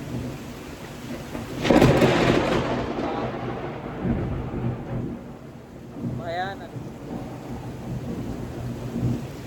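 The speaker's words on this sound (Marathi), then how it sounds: "पण आवाज बघा विजांचा एकदम असा कडाक्याने पाऊस आला" A heavy first-monsoon downpour roars steadily while a loud, very close thunderclap rumbles early on and fades; a brief tonal chirp appears briefly in the middle.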